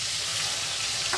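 Whole garam masala and onion paste fry in hot oil used for frying meat, giving a short, continuous close sizzle.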